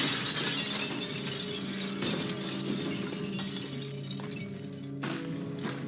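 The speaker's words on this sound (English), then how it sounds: "She literally goes and throws a chair through Dan's like glass window at his office." A chair is thrown through a glass office window, bursting into a loud crash of shattering glass with tinkling fragments that fades over a low, steady tonal background.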